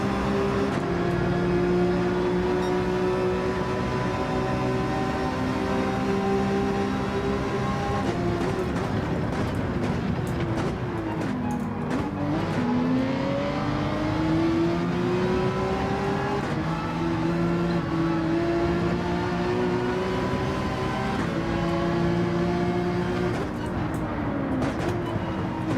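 Race car engine in Gran Turismo 7 held at full throttle in first gear, a loud sustained whine that climbs and dips with shifts, continuous and close with no talk.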